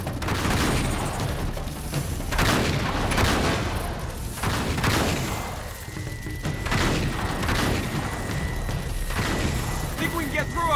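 Sustained gunfire in Uncharted: The Nathan Drake Collection, with repeated loud bursts, thuds and booms rolling on throughout under background game noise.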